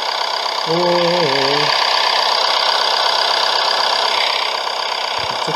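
Car engine idling in a Roblox game, a steady loud drone with a low rumble holding throughout, briefly overlapped by a wavering sung or hummed tone near the start.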